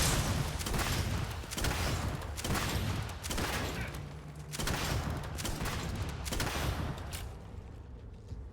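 An advanced cryo launcher firing in Starfield, a series of loud, heavy discharges in repeated blasts with short gaps, close and dominant, fading near the end.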